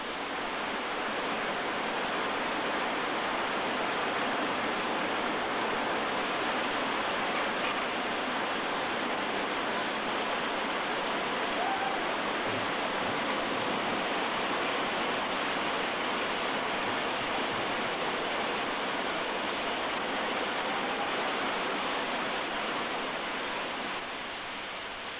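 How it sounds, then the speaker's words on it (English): A waterfall in a Welsh gorge roars as a dense, steady rush of white water, loud and unbroken throughout with no other sounds standing out. "This was Tony's first waterfall"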